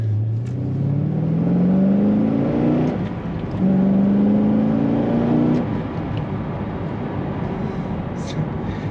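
A 2007 Chevrolet Corvette Z06 pulls hard up to speed, its engine note climbing steadily through two rising sweeps with a brief shift dip between them, then settling into a steady cruising drone.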